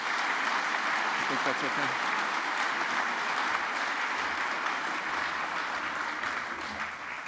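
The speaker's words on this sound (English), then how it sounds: "Give him one more round of applause, ladies and gentlemen, please." A lecture audience applauds steadily for the full length, a dense, even wash of clapping with a short spoken phrase over it.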